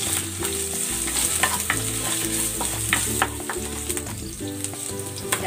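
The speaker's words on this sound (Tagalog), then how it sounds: "Igigisa ko na tong luya." Ginger sautéing in a pan for squid adobo, a continuous moderate sizzle and stir with light clinks over quiet tonal background music.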